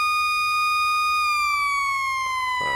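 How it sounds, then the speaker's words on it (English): Emergency vehicle siren in the Into The Flames firefighting video game wails steadily and loudly, its tone gliding slowly downward. "I can hear the sirens."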